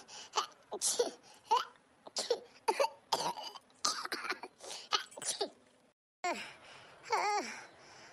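A woman coughs in repeated harsh bursts with throat-clearing and strained groans between them, close and fairly quiet, with a short pause before a final rasping fit.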